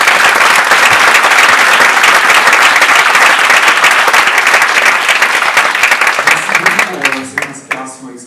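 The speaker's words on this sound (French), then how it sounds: "On peut l'applaudir." Loud, dense applause from a conference audience thanking a speaker, sustained for several seconds before thinning into scattered claps as a voice begins to talk over the fading sound.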